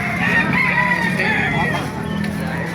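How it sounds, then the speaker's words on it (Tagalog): Roosters crow at a chicken market in Baliuag, Philippines, their drawn-out calls overlapping amid crowd murmur and general outdoor noise. "Maraming manok kayo dito sa Baliwag."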